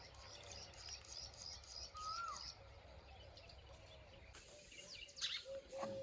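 Sparrows chirping in a quiet early-morning village field, scattered short thin calls at a distance over soft ambient hush, with a few brighter chirps bunched toward the end.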